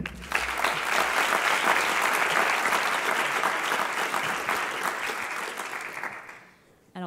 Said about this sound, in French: On peut les applaudir, merci.